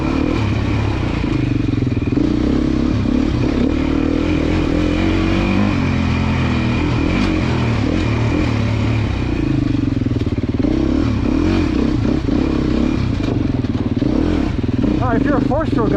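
A 4-stroke Beta trail motorcycle engine runs loudly and steadily close by at a demo day, a continuous throbbing drone with slight rises in pitch, while someone talks over it.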